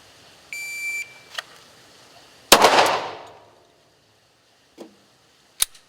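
Handgun fired during a shooting training session: one loud, close report with a short echoing tail, plus electronic beeps from a shot timer before it and a few faint clicks after.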